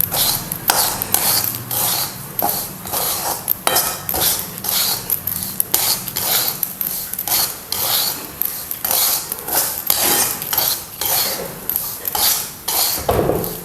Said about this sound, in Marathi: आपण सतत आहे ना असं हलवत हलवत आपल्याला हे रवा भाजून घ्यायचा आहे